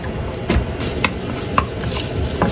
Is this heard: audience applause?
no